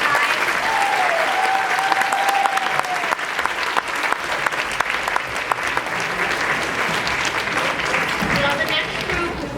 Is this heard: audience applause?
yes